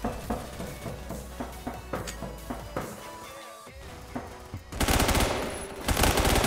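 Gunfire in the Roblox Phantom Forces video game: rapid repeated shots in bursts, a brief lull, then a dense loud volley of continuous fire, with no speech.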